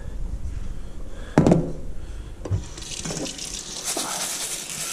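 Tap water runs and splashes over about two cups of basmati rice in a kitchen sink, with a sharp clattering splash midway and steadier pouring and dripping after, moderately close.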